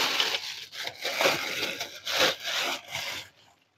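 A cloth rubs back and forth over an air conditioner unit in close, rasping strokes, about five passes that stop abruptly.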